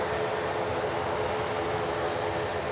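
Steady broadband engine roar of a propeller airliner taxiing past at Manchester Airport, continuous and fairly close with no talk over it.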